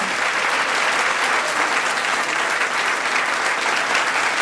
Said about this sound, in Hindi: आप लोगों की तालियों की गड़गड़ाहट बहुत कम है.